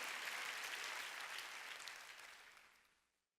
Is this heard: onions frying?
no